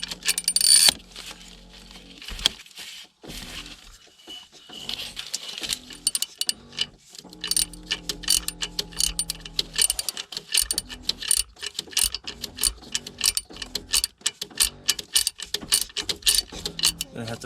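Valve spring on a 2005 Dodge Ram 5.7 Hemi engine being compressed with a tool, giving repeated close metallic clicks and ratcheting clanks in an uneven rhythm, with brief quiet gaps.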